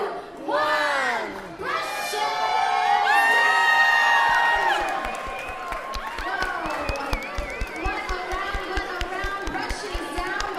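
Audience at a live painting event in Toronto cheers, whoops and applauds as six painters finish their canvases, a loud crowd roar with shouting voices, then steady rapid clapping carrying on.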